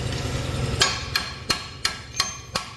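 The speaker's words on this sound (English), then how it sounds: "You have a hammer." Five sharp metallic hammer blows on a steel truck frame, spaced about a third of a second apart, close and loud over a steady low shop hum.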